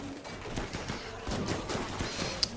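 Colonists shooting in the colony game Rimworld: scattered, fairly quiet game gunshots popping irregularly at mid distance, with one sharper crack near the end.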